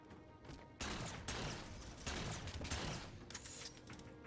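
Gunfire in the Halo 4 video game on Legendary difficulty, a dense continuous fusillade of shots and impacts sustained at fairly close range for several seconds, with no talk over it.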